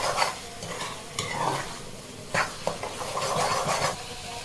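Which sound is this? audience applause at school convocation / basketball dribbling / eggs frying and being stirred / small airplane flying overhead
eggs frying and being stirred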